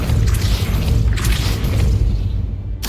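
Magical Depulso push spell in Hogwarts Legacy, heavy booming whooshes and crashing bursts that swell and cut off, loud and close with no talk.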